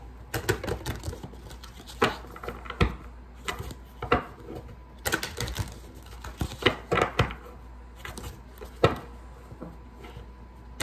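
A deck of Flowers of the Night oracle cards is shuffled close by, giving irregular bursts of crisp flicking and tapping clicks with short pauses between, and no talking.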